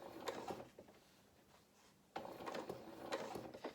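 A domestic sewing machine stitches a curved seam on a fabric cat toy body, running slowly in two short bursts of quick, quiet mechanical clatter separated by a brief pause.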